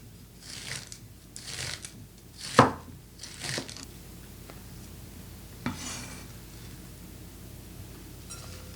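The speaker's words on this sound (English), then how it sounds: "Now we're gonna do our cabbage, and just the way we did the scallions, we're gonna slice them very thin" A knife slices cabbage very thin on a cutting board, a run of quick rhythmic chops in bursts followed by a few scattered cuts and quieter gaps.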